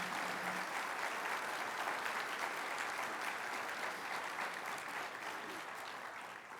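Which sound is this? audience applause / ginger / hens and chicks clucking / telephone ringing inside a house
audience applause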